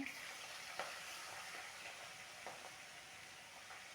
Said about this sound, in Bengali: মাছটা ভেজে তুলে নেব, বেশি ভাজবো না